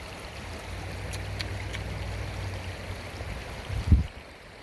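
A creek swollen with February water rushes steadily at a gold prospecting site, a soft low hum beneath it and a single dull thump near the end.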